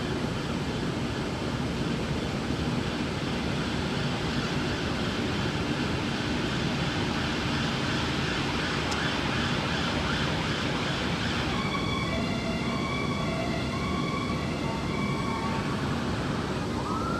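Helicopters, a news helicopter and a police helicopter, flying over during the Queen's Platinum Jubilee flypast in 2022, heard as a steady, distant broadband rumble and whir that holds throughout, with a faint higher tone entering near the end.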